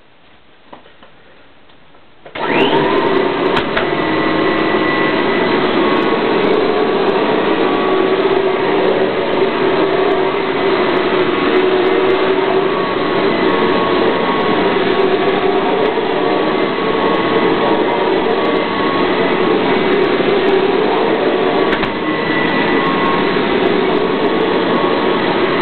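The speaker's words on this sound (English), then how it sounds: "So, now I better vacuum the rest of it." A Kirby vacuum cleaner switches on after a short quiet moment and runs on carpet loud and steady close by, a constant motor roar with no pauses.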